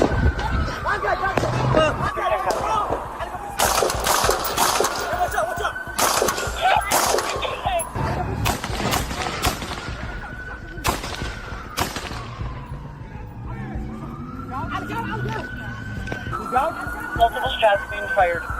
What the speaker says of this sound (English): Multiple shots being fired.